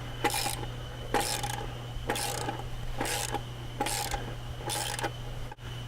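ATV wheel bolts on a Kodiak 450 are tightened with a ratchet, making six evenly spaced bursts of quick clicking, each about half a second long and roughly a second apart, close by against a faint steady hum.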